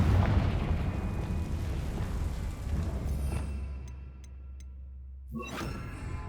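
The Confringo fire spell exploding in Hogwarts Legacy: a rumbling blast and dense crackling roar that fades out over several seconds, leaving a few faint ticks, before a sharp whooshing burst near the end.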